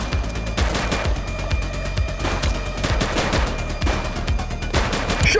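Dense, sustained gunfire in the police video game The Precinct, rapid overlapping shots and bursts rattling continuously at full loudness with no voices.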